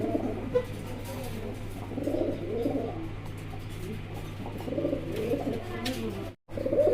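Caged fancy pigeons of the mukhi breed coo softly in repeated throaty bursts, fairly close, over a steady low hum with a short dropout near the end.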